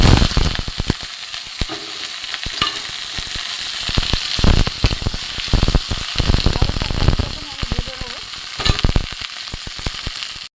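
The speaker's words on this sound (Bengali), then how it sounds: "আমি ঢ্যাঁড়সটা প্রথমে ভেজে নেব" Okra frying in hot mustard oil in a wok gives a steady, crackling sizzle close by, broken by bursts of sharp pops and spatters throughout.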